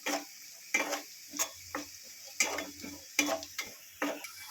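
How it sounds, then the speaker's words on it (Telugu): Cashews fry in ghee in a small pan for cornflour halwa, with a faint sizzle under repeated sharp scrapes and taps of a spoon against the metal, coming in an irregular rhythm up close. "కొంచెం పెనం పెట్టుకొని ఇందులో జీడిపప్పు బ్రౌన్ కలర్ వచ్చేంత వరకు వేయించుకొని"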